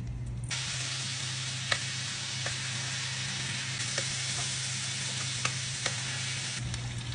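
Salmon bites frying in oil and butter in a hot skillet, a loud steady sizzle with occasional soft pops and brief stirring clicks, no voices.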